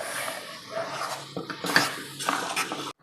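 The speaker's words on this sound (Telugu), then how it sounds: "ఇదిగోండి ఇలాగా తిప్పుకుంటూ ఉండాలి మనం." A spoon stirs cooked rice and moong dal in jaggery and sugar syrup in a pot for chakkara pongali, making soft scraping and clinking strokes with a faint bubbling hiss, close and fairly quiet.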